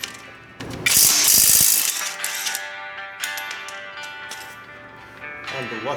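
A ratchet works a 22 mm castle nut off a wheel hub with a loud burst of quick clicking, followed by softer, scattered ratchet clicks and metallic handling.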